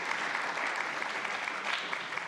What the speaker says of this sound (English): let's applaud for you being here today